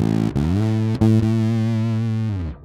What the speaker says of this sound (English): And then we add the big muff.